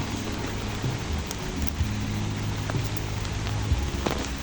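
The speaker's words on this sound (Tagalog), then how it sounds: "Umulan na, malakas na yung ulan." Heavy rain pours steadily, a dense, loud hiss with occasional faint low rumbles and no speech.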